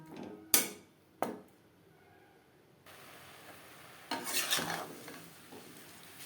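Fish roe curry with tomato and spring onion stirred in a pan over a low-medium flame: two sharp utensil clanks against the pan, then a soft sizzle with a burst of scraping stirring near the end.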